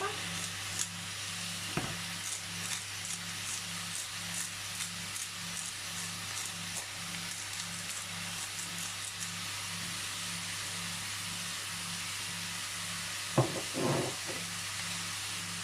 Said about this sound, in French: Et on laisse revenir la viande. Vous voyez, elle commence à griller là.